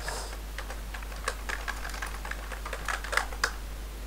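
Keys on a computer keyboard are tapped in short irregular bursts to enter an email address, light close clicks over a steady low electrical hum.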